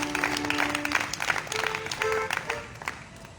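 A church congregation applauding together during an evening Magnificat apostolate gathering, a sustained wash of clapping with some sung or cheered voices mixed in, moderately distant.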